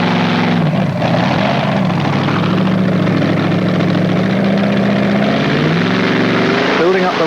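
Tractor-pulling engine at the 1997 European Tractor Pulling event at Ahoy Rotterdam, a loud sustained roar with a droning low harmonic that dips and climbs as revs build under strain, with an announcer talking over it.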